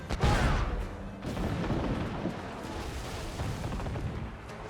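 Ship mortars boom in an Assassin's Creed naval battle, a heavy blast at the start followed by rumbling, rolling explosions that keep going for several seconds.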